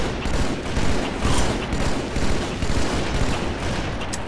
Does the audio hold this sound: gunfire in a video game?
yes